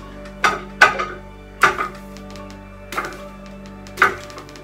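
Several sharp knocks of arms striking a training dummy, five or so irregular hits over a low steady hum, no talking.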